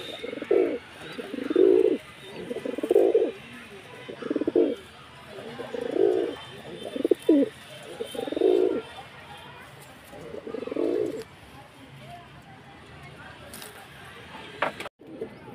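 Madrasi pigeons of the Para face beauty breed coo in a steady series of about eight low, rounded calls, close by, then stop, with faint background noise and a brief clatter near the end.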